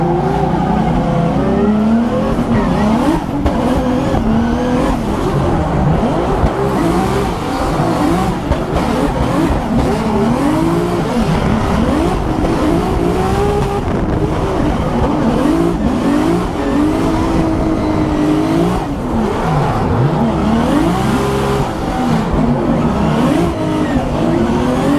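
A Formula Drift race car drifting on an unfamiliar track, its engine loud and constant, revving and shifting in pitch as tires squeal and skid continuously throughout, heard close from onboard with no talk.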